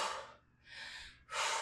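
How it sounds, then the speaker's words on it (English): Strong, breathy exhales during a tricep extension exercise in a yoga and weights workout, with a bursty out-breath, a softer breath in the middle and another forceful exhale close to the microphone. "Exhale with every extension."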